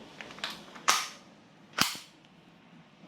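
Two sharp, close shots from a KWC Mini Uzi 6mm CO2 airsoft submachine gun, each a crisp pop with a short hiss, about a second apart after a couple of faint clicks.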